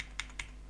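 Two quick computer keyboard key presses, a Ctrl+D shortcut, click sharply and close together in a quiet room.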